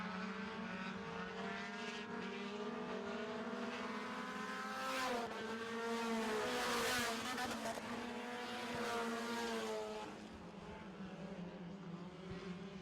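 Four-cylinder stock cars race around an oval track, engines droning steadily with a rising, swelling roar as the pack passes nearby, then easing back to a sustained distant hum.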